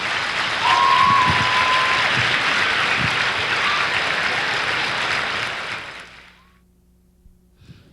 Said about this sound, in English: Can everybody give a round of applause for these guys that fought for us?